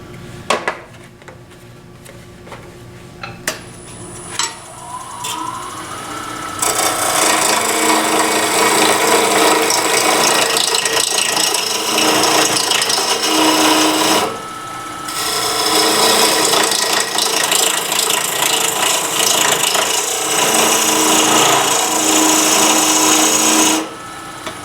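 A skew chisel on a wood lathe hogs away wood quickly, a loud continuous rasping scrape against the spinning workpiece in two long bursts separated by a brief pause, preceded by quieter tool contact.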